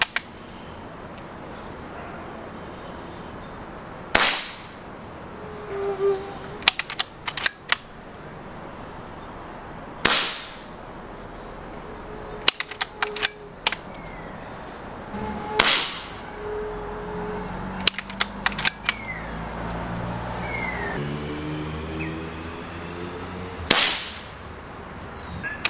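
Webley & Scott Raider 10 .20 caliber PCP air rifle firing JSP 13.75 grain Diablo pellets at targets 35 yards away, four sharp, loud single cracks spaced several seconds apart, with faint birdsong and quiet outdoor ambience between shots.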